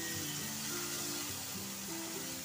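Boiled dal fried with cumin, red chili and other spices in a pan gives a dense, continuous sizzling hiss, close and steady, with no talking.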